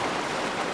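Icy cold creek in New Zealand high country on a winter tahr hunt, rushing water making a steady broadband hiss, close and continuous with no voices.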